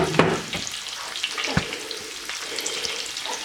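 Onions and garlic frying in a pan for plov, a steady close sizzle with a few sharp clatters and stirring knocks throughout.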